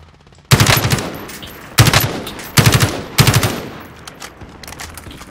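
Automatic weapon fire in Call of Duty: Warzone, four loud close bursts of rapid shots with short gaps between them, with fainter shots trailing off at the end and no talk over them.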